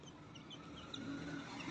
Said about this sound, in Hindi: और इस पिंजरे में एक मुर्गी और उसका चूज़ा था